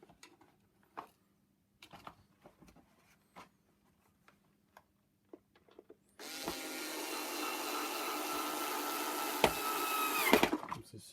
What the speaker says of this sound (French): Donc vous pouvez travailler avec un tournevis aimanté,